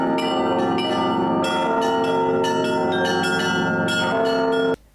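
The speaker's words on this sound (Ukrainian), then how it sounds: "У той же час почали бити у дзвони з Михайлівського собору." Church bells of St. Michael's Cathedral in Kyiv ringing loudly in a continuous, layered peal with rich sustained tones, then cutting off abruptly near the end.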